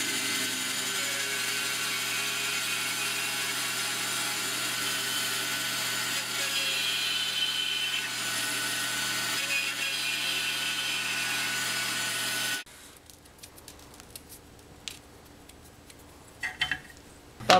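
A bandsaw cuts plastic amplifier knobs with a steady, loud, hissing cut for about twelve seconds before stopping abruptly, leaving quieter clatter afterward.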